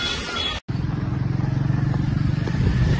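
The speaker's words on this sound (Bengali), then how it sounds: "আমি বাইকে উঠে যাচ্ছি" A motorcycle engine putters with a rapid, pulsing throb close by as a rider sets off for a market in heavy rain, following a brief dropout near the start.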